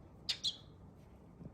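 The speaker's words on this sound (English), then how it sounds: "So this is my cockatiel." A pet cockatiel squawks outdoors, two short shrill calls in quick succession, close and sharp, then quiet.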